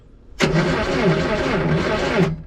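A vintage Datsun 521 pickup, rescued from a scrapyard, cranks over on its starter after the battery cable was grounded to the alternator: a loud, steady, rhythmic churning that starts abruptly and runs for about two seconds without catching.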